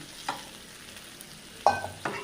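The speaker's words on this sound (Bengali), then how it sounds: "পেঁয়াজ ভাজি হয়ে গেছে, আমি এবার পুঁটি মাছ ভাজাগুলো দিয়ে দিলাম" Fried puti fish tossed into frying onions, with a few brief stirring scrapes and soft sizzle at a low level, no voices.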